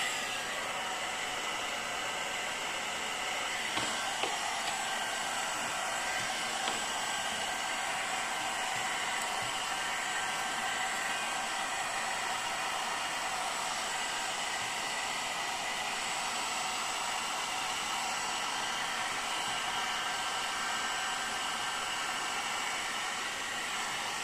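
A hot air brush blows steadily on almost-dry thin hair during a volumizing blowout, a loud continuous airy whoosh with motor hum that holds unbroken throughout, no voices.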